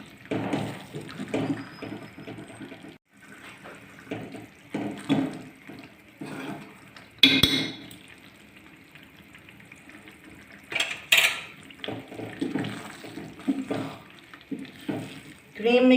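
A spoon stirs cream into chicken palak in a pot, making soft scraping and gentle wet sloshing sounds with a few sharper clinks against the metal, under intermittent talk.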